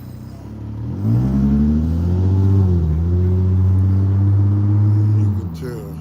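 A loud car engine revs and roars outdoors for several seconds, its pitch rising and holding steady close by, with people talking around it.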